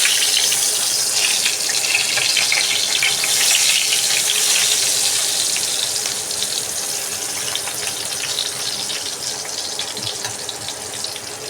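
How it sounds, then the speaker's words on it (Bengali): Eggplant slices frying in a very small amount of oil give off a steady, dense sizzle and hiss that runs unbroken from start to finish, fairly loud and close, with no voices. "বেগুনটা দিয়ে দিচ্ছি, খুব কম তেলে ভাজবো।"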